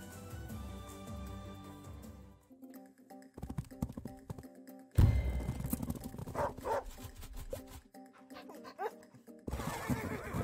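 Dog unit in the Wargroove strategy video game giving short barks amid game music, with horse neighs and other unit sounds mixed in at moderate loudness.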